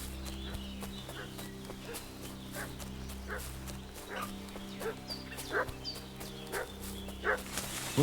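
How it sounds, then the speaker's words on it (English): A dog barks in Kingdom Come: Deliverance II, a few short barks rising toward the end over a steady game-world ambience of low hum and clip-clopping hooves, mid-distance and moderately loud. "What's that dog making such a fuss about?"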